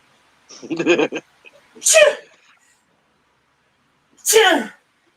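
A person sneezes, followed a moment later by two more loud sneezes in quick succession, each a sharp burst close to the listener, with a little speech between them.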